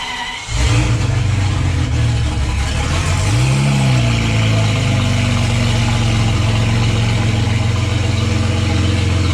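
A V12 Citroën Traction car engine cranks and catches, revs briefly, then settles into a steady, loud, rumbling idle that continues to the end.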